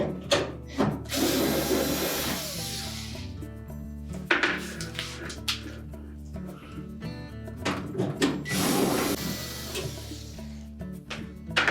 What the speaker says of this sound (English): Next, we're going to remove the screws that secure that evaporator cover in place.